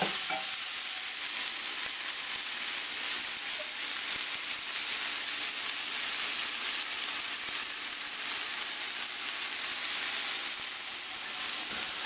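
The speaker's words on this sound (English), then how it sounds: "all you want to do is give that a good mix, just to incorporate all the ingredients in here" Tofu curry sizzles steadily in a pot while being stirred, a dense, continuous frying hiss with faint scraping underneath and no talk.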